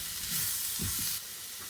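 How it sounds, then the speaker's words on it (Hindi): Two tablespoons of plain flour roast in a hot pan with a soft, continuous hiss and a few faint low stirring bumps, briefly and fairly quietly. "अब इसके अंदर ये जो 2 टेबलस्पून मैदा है वो ऐड कर देंगे और इसको 1 से 2 मिनट के लिए भूनेंगे।"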